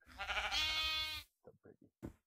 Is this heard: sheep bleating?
yes